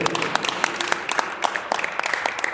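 A church congregation in Celaya, Mexico claps loudly in a dense, steady burst of applause during a sermon, with rapid overlapping hand claps filling the clip.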